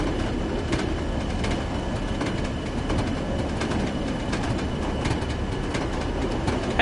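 An HST diesel train runs on the East Coastway in Train Sim World, a constant loud rolling rumble with faint, regular wheel clicks and no pauses.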